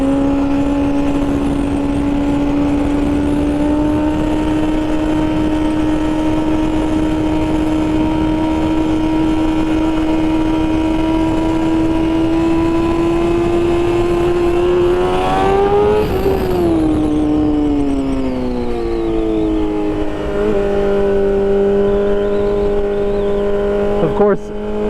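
2021 BMW M1000RR motorcycle with a flashed ECU, engine droning loudly and steadily as it pulls up through the revs, peaking in a sharp rise before dropping back to a lower steady tone, heard from the rider's position.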